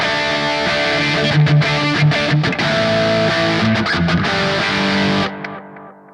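An electric guitar runs through a Bias FX 2 rock preset with reverb and delay, playing a loud, chunky distorted rhythm part of chords and short stops, then ringing out and decaying into the echo tail at the end.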